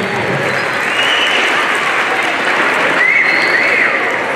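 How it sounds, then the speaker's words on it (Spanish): An audience at a school end-of-semester event claps steadily and loudly throughout, a dense wash of applause from a crowd. "Fuerte el aplauso para el"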